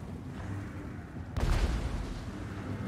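A deep booming gunshot bursts in after a low rumbling background in Total War: Warhammer III, followed by sustained rumble like distant game gunfire.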